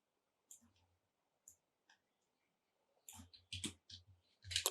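Keyboard keys pressed during photo editing at a computer, a few sparse, soft clicks early on, then a quicker cluster of sharper, louder taps toward the end, close by with no talking over them.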